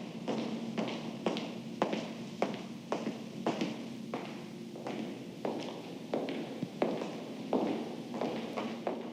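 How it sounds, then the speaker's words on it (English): Steady footsteps in a museum scene from Hitchcock's film Torn Curtain, even paced steps echoing on a hard floor in a large reverberant space, moderately close with a faint background hum. "using almost exclusively the sound of footsteps"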